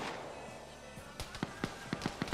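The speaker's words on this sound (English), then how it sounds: "And return fire coming in." Gunshots and return fire in a first-person shooter match, a quiet run of about eight sharp cracks in an uneven burst, fairly faint under the game's ambient hiss.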